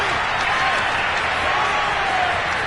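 Stadium crowd in the Madden 2022 football video game roars and applauds after a Cleveland touchdown, a dense continuous wash of cheering that stays loud and even throughout.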